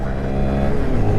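A 125cc Honda Monkey motorcycle revving under throttle, its small single-cylinder engine giving a steady, loud, close buzzing drone that climbs slightly in pitch, with no talking.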